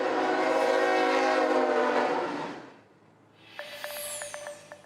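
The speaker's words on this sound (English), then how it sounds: "When I hear the train, I still get a little jumpy." A freight train rumbles past in East Palestine, Ohio, a loud, steady rolling roar that fades away, followed by repeated short bursts of its horn and clanking from farther off.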